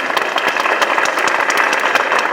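A large crowd at a Korean Democratic Party joint campaign launch rally for the 21st general election applauds loudly, a dense, continuous roar of clapping that stays at a strong, even level throughout.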